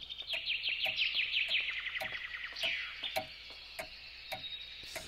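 Birds in the video game Layers of Fear chirp in quick repeated trills and tweets, a fairly near, steady chorus with ticking clicks running through it and no talk.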